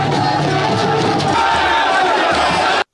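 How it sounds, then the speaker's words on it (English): A crowd of supporters in Kano cheers and clamours as a deposed emir steps out of his palace, a dense continuous roar of many voices that stays loud throughout and then cuts off abruptly near the end. "They both step out of their palaces to the cheer and admiration of their supporters."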